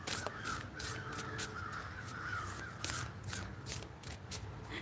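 Several crows caw outdoors in repeated harsh calls, moderately near, over a steady background hum of the outdoors, with a few sharp clicks or rustles in between.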